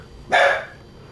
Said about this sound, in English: Farm Dog Max is requesting some sort of assistance.